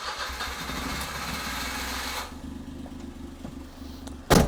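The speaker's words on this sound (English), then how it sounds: "So I'm going to start the car." A car engine, checked with an XTool D5S OBD2 scan tool, runs steadily and then drops to a quieter idle, ending in a short loud burst, close by with no talk.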